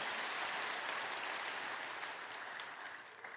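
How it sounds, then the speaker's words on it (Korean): Church congregation at a Sunday worship service applauding the choir, a dense, steady wash of many hands clapping at once, sustained throughout and tapering slightly toward the end, with no voices over it. "귀한 찬양으로 은혜를 주신 우리 배다미 찬양대에게 뜨거운 감사의 박수 한번 주시기 바랍니다"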